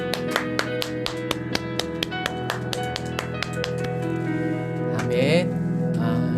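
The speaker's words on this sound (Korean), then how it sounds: "우리 하나님께 감사의 박수 드리겠습니다" A church congregation claps in thanks at a New Year's Eve worship service, producing sharp, evenly spaced claps in a steady rhythm over sustained music, with the clapping fading toward the end.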